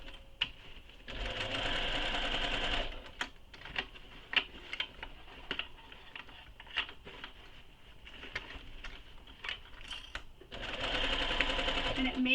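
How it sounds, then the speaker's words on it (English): A sewing machine runs in two steady whirring bursts as it stitches around a foam-lined bag panel, with a quieter stretch of ticking handling and clicks between them. "So I'm going to sew this all the way around."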